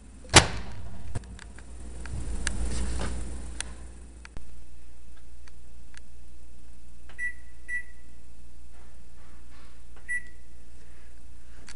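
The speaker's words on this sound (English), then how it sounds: "Popcorn, let's put it in the microwave." Microwave oven heating popcorn in a home kitchen: a click and thump as it starts, then a steady low running hum with a few faint ticks and short beeps.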